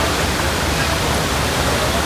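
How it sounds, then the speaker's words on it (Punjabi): Flood water pours through a breach in a village area, a loud, constant, broadband roar of rushing water close by with no break. "ਉਸੇ ਗੈਪ ਤੇ ਜਿੱਥੋਂ ਪਾਣੀ ਦਰਿਆ ਵਾਂਗ ਲੰਘ ਰਿਹਾ"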